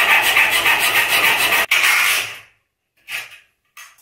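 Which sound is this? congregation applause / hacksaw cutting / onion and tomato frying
hacksaw cutting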